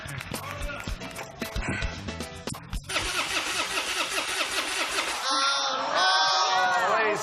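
On a television game show stage, a car prize is started with a key. The starter cranks in a rapid rhythm before the engine catches and settles into a mid-pitched idle, while an audience cheers and people talk.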